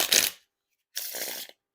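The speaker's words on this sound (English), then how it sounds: "You can definitely tell the cards are thick when riffling them." Thick Carvers v1 Watermelon playing cards are riffle shuffled in two close bursts: a quick sharp riffle, a pause, then a longer, clumpier fluttering bridge, with no talk.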